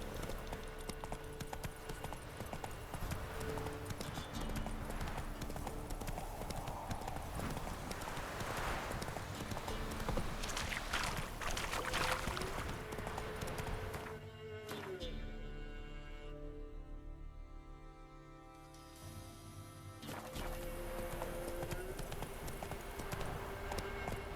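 Horse hooves clip-clop steadily while riding in The Witcher 3 on PS5, a continuous rhythmic trot under game music and ambience, briefly dipping in the middle before resuming.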